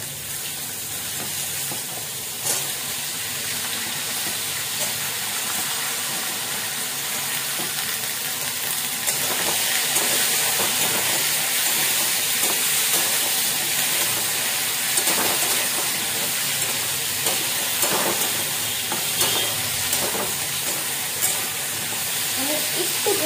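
Flat beans frying in a pan with no spices, giving a steady close sizzle and hiss that swells louder partway through, with faint stirring noises throughout.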